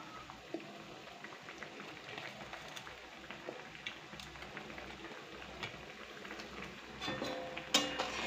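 Egg omelette pieces simmering in boiling curry liquid, a quiet, soft bubbling with small irregular pops and ticks, growing slightly busier toward the end.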